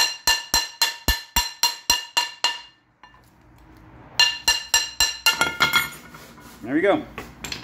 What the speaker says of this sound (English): all we have to do is tap it with a hammer until it pops off